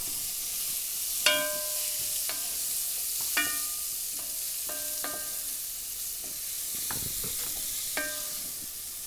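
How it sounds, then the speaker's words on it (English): Onions sautéing in freshly added oil give a steady soft sizzle and hiss, broken by several sharp, ringing taps of a utensil against the pan, close up and with no voices. "So I just want the onions to saute more."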